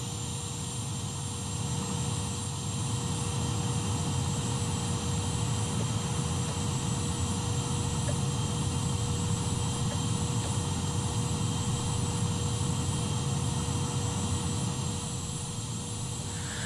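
A Viggen jet built in a video game drones steadily through a long pass, a continuous loud engine roar with a faint high whine and no break.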